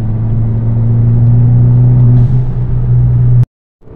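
A lifted van accelerating in fourth gear, a loud steady engine drone with a rising whir, which cuts off abruptly near the end.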